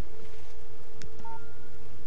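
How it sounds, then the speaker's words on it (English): A telephone in the video game Alan Wake sounds with a short electronic tone over a steady game hum, followed by a brief higher beep. "Hey, it's the phone."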